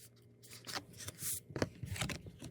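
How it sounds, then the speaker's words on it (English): Balmy Blue cardstock slides and rustles into a hybrid embossing folder close up, a series of soft papery swishes and taps in irregular bursts. "we're going to put it inside our hybrid embossing folder"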